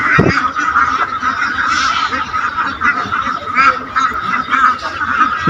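A large flock of ducks on a crowded duck farm quacks and honks continuously, a loud, dense chorus of overlapping calls close by with no break.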